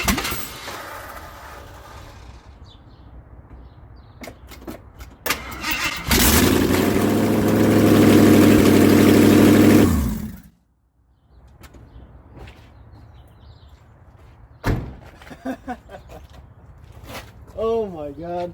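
An AMC Matador car with its exhaust manifolds removed cranks and catches, then runs loud and raw for several seconds before shutting off abruptly; people talk before and after.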